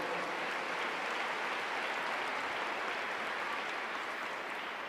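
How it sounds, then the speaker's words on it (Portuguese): Congregation in a church applauding after a scripture reading; a steady, even wash of many hands clapping at moderate volume, sounding somewhat distant and continuous throughout, with no speech over it. "Vamos aplaudir a palavra do Senhor?"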